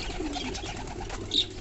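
Fancy pigeons bathing, soft low cooing alone against a quiet background, with one brief brighter chirp near the end.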